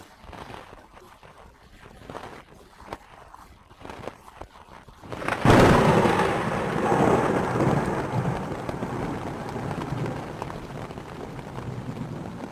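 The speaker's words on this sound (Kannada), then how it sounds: "ಭಾರೀ ಸಿಡಿಲು ಗುಡುಗಿತು" Heavy thunder during a thunderstorm: a loud, broad rumbling crash breaks in after about five seconds of quieter rain-like patter, then rolls on for several seconds as it slowly fades.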